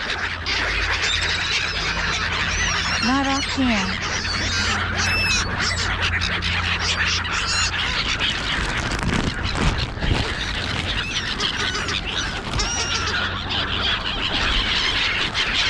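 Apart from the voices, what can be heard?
gulls calling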